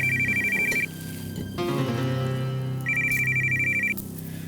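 A telephone rings with a repeated electronic trill in two bursts, separated by a short pause with a soft tone in between.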